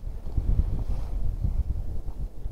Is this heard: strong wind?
yes